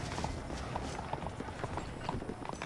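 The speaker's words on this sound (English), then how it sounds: "bring the horses around front" Horse hooves clip-clop in quick, steady rhythm in the western game Red Dead Redemption, the clopping fairly close and continuous.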